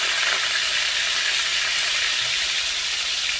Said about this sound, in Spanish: Ahora vamos a freír las papas hasta que queden doradas.